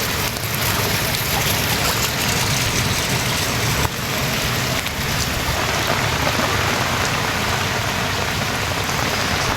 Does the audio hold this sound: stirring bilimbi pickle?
no